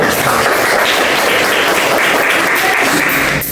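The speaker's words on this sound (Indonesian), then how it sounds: "Beri tepuk tangan" A classroom audience at a junior high micro-teaching session claps together in dense, continuous applause that holds steady for a few seconds.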